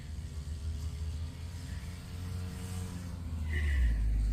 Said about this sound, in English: That car was a bit noisy.